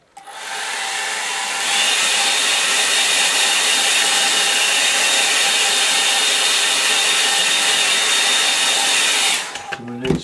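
A hair dryer runs steadily and fairly loud over a watercolour line-and-wash snow scene, blowing with an even broadband roar for about nine seconds before cutting off near the end.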